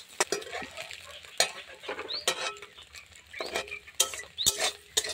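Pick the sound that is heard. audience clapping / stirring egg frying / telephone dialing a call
stirring egg frying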